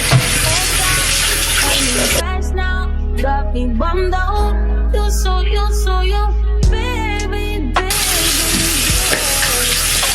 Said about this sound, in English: I'm gonna just wet my hair with warm water.